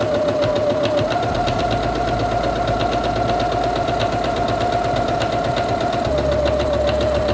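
A Singer Quantum Stylist 9960 computerized portable sewing machine stitches through fabric with a steady, close motor whir and fine rapid ticking that runs without a break.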